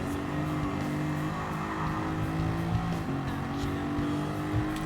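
Lamborghini Countach in Gran Turismo 7, a loud sustained engine drone with steady harmonic tones shifting pitch as it revs and changes gear, accompanied by tire noise, continuous and close.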